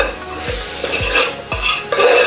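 Turmeric being stirred into mutton masala frying in a pan for a coconut milk mutton gravy: steady sizzle with three or four close, regular spatula scrapes about half a second apart, no talking.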